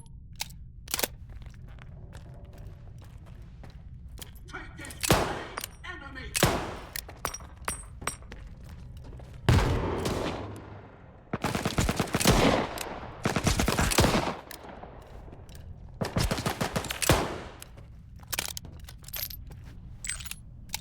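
Revolver shots in STALKER 2, sharp loud single cracks spaced irregularly, mixed with heavier bursts of other gunfire and metallic clinks, close and punchy against a low ambient rumble.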